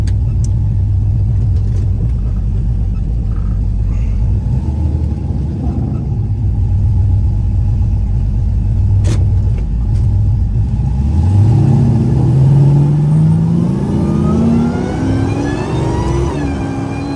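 A Dodge Hellcat muscle car accelerates hard, its deep, loud engine rumble climbing steadily in pitch as it pulls up to speed, close and continuous, with no talking.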